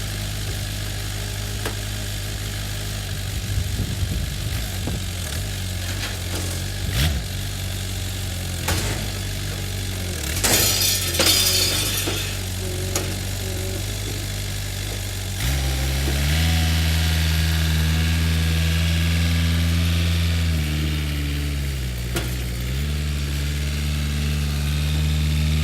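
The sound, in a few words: tractor lifting a table off a trailer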